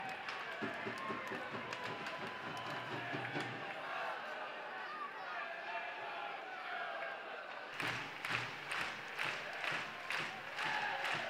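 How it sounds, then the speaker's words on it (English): Ice hockey crowd in the Dundee Ice Arena during a Dundee Stars versus Glasgow Clan game, a sustained roar of cheering that swells loudly near the end, with rhythmic bursts and thumps through the din. "the crowd are on their feet here in the Dundee Ice Arena. The commentary box is shaking with the noise"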